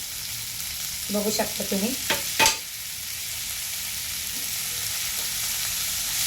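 Chopped tomatoes sizzle in a pan for a simple village-style cauliflower and potato curry, a faint, steady hiss with a brief spoken remark and a few light clinks over it.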